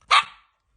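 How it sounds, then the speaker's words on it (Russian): A small puppy gives one short, sharp, high-pitched bark, close by and fairly loud, fading quickly into silence. "Вот такой щеночек."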